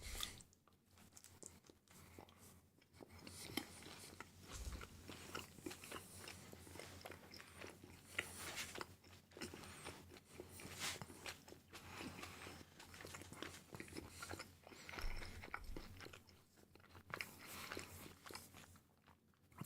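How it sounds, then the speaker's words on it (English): Close-up munching and chewing on food right at the microphone, with irregular crunchy bites and wet squishes continuing throughout, steady and fairly loud. "sorry guys for the munching noises"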